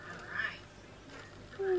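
Indian runner ducks call faintly outdoors with soft, scattered quacks, then a louder, nearer nasal call right at the end.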